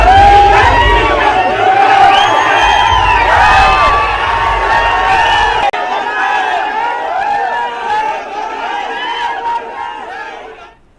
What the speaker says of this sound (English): Huge crowds and the rally that seems to be a victory rally for Revant Reddy